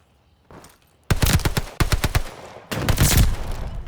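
Owen submachine gun fire in the video game Call of Duty: Vanguard, loud close bursts of rapid shots: a short volley, a brief pause, then longer sustained automatic fire.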